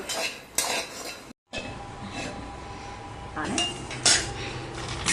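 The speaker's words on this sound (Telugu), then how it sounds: "ఈ వేరుశనగ గుళ్ళు ఉన్నాయి కదా, ఇవి కూడా ఇలా ఫ్రై చేసుకోవాలి పొట్టు ఊడిపోయేంత వరకు కూడా" Peanuts being stirred in a pan as they fry until their skins loosen, giving repeated scraping and clattering of a utensil against the metal pan, with sharper clinks near the end and a faint background hiss.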